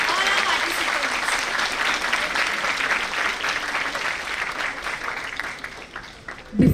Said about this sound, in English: Big round of applause for all our participants.